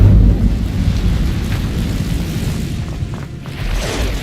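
Incendio fire spell cast in the video game Hogwarts Legacy, a loud, rumbling whoosh of flame with a heavy low roar that swells at the start and keeps burning steadily, without any voices.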